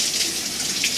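Tap water pours steadily over a bowl being rinsed in a home kitchen, a continuous close splashing gush filling the whole moment with no voices.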